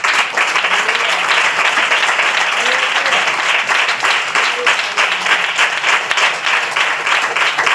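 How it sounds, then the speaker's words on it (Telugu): A church congregation claps loudly for a father during a praise prayer, a sustained close burst of applause with dense rapid hand claps filling the room. "ఒకసారి నీ డాడీకి గట్టిగా చప్పట్లు కొట్టి"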